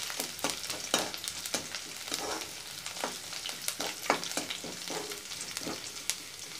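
Garlic fries in oil in a pan, sizzling and crackling with repeated sharp pops and stirring scrapes over a steady frying hiss.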